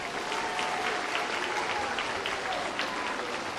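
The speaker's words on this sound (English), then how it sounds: "One final round of applause for these Math Award recipients." A room of parents and students at a junior high school academic awards program claps for math award recipients, dense steady applause throughout with faint voices blended in.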